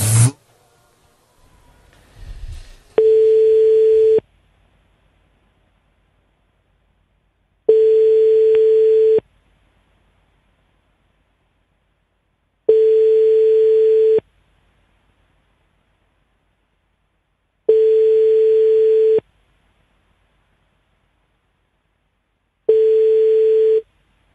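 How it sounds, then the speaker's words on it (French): A telephone ringback tone repeats as a call is placed: five identical long steady beeps, each about a second and a half, separated by even silences, clean and loud, after a brief rustle at the start. "Allez, on appelle Pierre."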